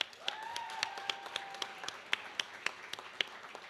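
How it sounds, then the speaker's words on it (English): Sparse applause from a small audience at a high school athletic banquet, with separate claps ringing out at a steady, uneven rhythm over a quiet room and a faint background tone. "but round of applause for Troy."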